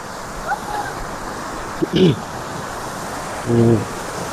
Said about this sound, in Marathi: छान धबधबा झालाय निर्माण